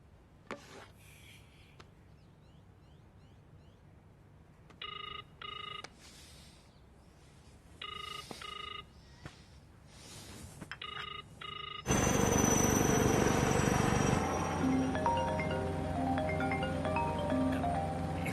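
A telephone rings during a call in a Hindi film scene, giving repeated electronic ring bursts in an evenly spaced pattern. Near the end a louder, dense burst of music or noise takes over.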